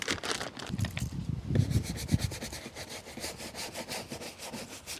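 A stiff brush scrubs the interior of a car left 25 years in a garage with the window open, using only lightly diluted APC cleaner, in rapid, rhythmic, close-up strokes that keep up steadily and loudly, with no one talking.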